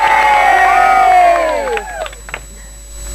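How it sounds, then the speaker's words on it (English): Excited crowd cheering and whooping at a ceremony for the driving of the last railroad spike at Promontory Summit, Utah; loud layered voices rising in pitch for about two seconds, then fading into scattered calls. "The crowd, as you know, is both anxious and excited"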